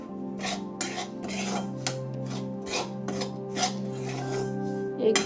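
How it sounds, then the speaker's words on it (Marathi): A spoon scraping and clanking around an iron wok held steady with tongs while a fasting-day mixture is stirred off the heat, with repeated close metallic strokes at an uneven rhythm over a faint steady hum. "कढई सांडशीने धरून हे असं व्यवस्थित असं मिक्स करून घ्यायचं।"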